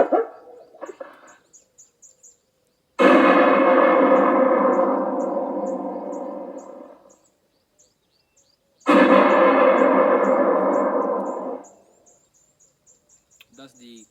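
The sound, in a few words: recorded gunshot sound from solar bird scaring device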